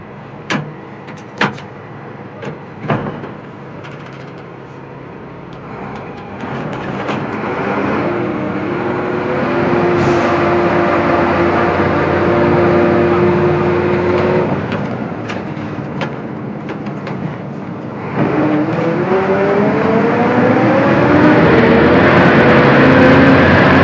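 A few sharp clunks and thumps are followed by a captured BTR-82 armored personnel carrier's engine building to a heavy, rising drone as it pulls away, loud and close, with a second surge near the end.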